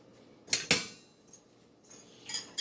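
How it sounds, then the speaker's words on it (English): A utensil scrapes and taps against a small dish while maple syrup and balsamic vinegar are stirred together, two sharp clinks, then softer scraping and a final clatter, with no voices. "And then I stir it around."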